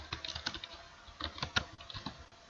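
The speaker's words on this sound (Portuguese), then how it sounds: "Eu vou escrever aqui." Brisk clicking of a computer keyboard, close and clear, in uneven bursts of keystrokes with short pauses, no voice.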